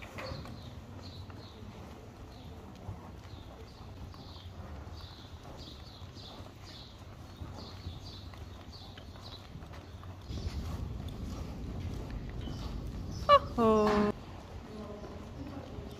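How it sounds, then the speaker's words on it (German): A horse trots during a riding lesson, its hooves clip-clopping in a steady rhythm throughout. Birds chirp faintly behind it, and a brief vocal sound rises near the end. "trab mal an und leicht traben"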